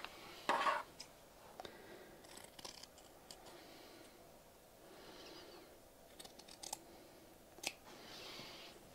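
Scissors cut out fabric for a square fabric button, giving faint, close snips and clicks scattered irregularly across a quiet background.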